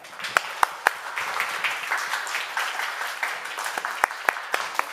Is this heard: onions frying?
no